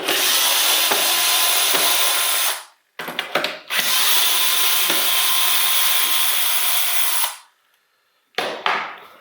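A Dremel rotary tool works on an old boombox, a loud high-pitched whine in long close bursts separated by brief stops and short restarts.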